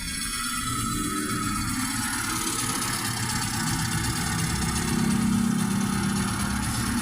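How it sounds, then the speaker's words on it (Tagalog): Rusi Rapid 150 motorcycle engine with a newly fitted E-type carburetor idles steadily at close range, a smooth continuous low rumble with no talking over it. "napakalamig ng tunog ni Rapid 150 yan, bagong palit ng E-type carburetor"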